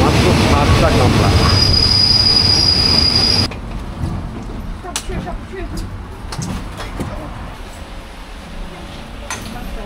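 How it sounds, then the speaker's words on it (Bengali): A short seven-car passenger train pulls into Pattaya station for Bangkok, a loud close rumble with high wheel squeal that drops sharply after a few seconds to quieter clicks and clanks, with voices nearby. "ট্রেন কিন্তু অলরেডি রিচ করছে স্টেশনে"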